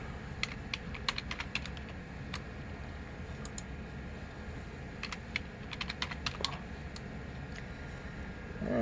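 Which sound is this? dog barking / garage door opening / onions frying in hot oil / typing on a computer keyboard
typing on a computer keyboard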